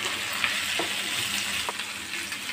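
Green chillies and tomato pieces frying with onions in a pan for a rajma tomato curry, giving a steady, close hiss of sizzling oil with a few soft stirring clicks throughout.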